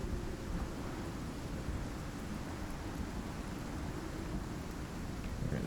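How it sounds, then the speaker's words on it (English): Thunderstorm in the video game Icarus, heavy rain and rumbling thunder forming a dense, steady roar with no speech. "It's not gonna be easy with this storm."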